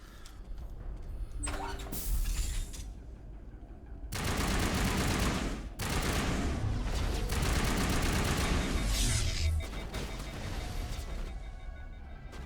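Player's gun firing in Mass Effect, loud sustained bursts of rapid shots cutting in and out in several long stretches with brief gaps between, amid other game effects.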